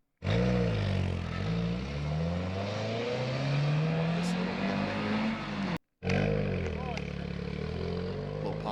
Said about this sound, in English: let's just take a listen to some of the other cars and the sights and sounds of the